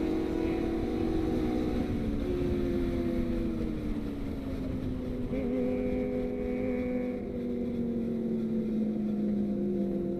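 Loud, steady engine drone with harmonic lines slowly shifting in pitch, as four motorcycles, most with open exhausts, run and rev together close by.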